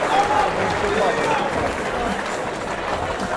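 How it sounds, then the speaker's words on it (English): A crowd cheers and applauds on its feet at the close of the third and final round of a Glory versus Bellator combat-sports fight, a dense, steady roar filling the arena throughout. "The crowd on their feet over in the background."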